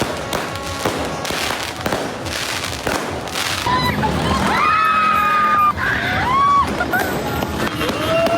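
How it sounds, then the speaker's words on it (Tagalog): Loud New Year's fireworks by a highway crackling and popping in rapid bursts, with whistling rockets rising and people shouting nearby. "lumabas naman kami para nga sindihan na tong fireworks na binili namin sa Bulacan"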